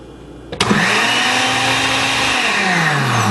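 A blender on its liquefy setting whirs through Cameroon-style achu yellow soup, starting with a sharp click and jolt, then a loud, steady motor whine with a rising pitch that drops slightly near the end.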